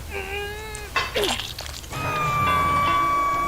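A bell is struck in a video game, a bright ringing tone that sustains and decays, followed by a clattering burst and then a second long, steady ringing tone held to the end.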